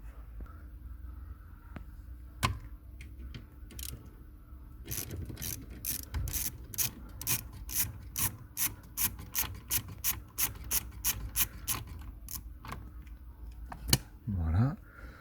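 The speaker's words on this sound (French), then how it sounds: "Et on va enlever ce boulon de 10 et tout le bloc va sortir. En fait, il est clipsé. et ça va reculer." A clipped Peugeot Citroen COM2000 steering column switch block is worked loose, with a long run of sharp rhythmic plastic clicks and ratcheting rasps, close up, after quieter handling noises, plus a brief talking voice.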